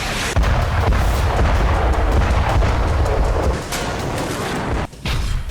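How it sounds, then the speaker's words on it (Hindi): Bunker-buster bombs dropped by fighter jets in an air strike on Beirut's Dahiya district give a sustained, heavy roar of blasts and rumbling, loud and distorted throughout, with a brief dip near the end. "लड़ाकू विमानों से बंकर बस्ट बम गिराए गए।"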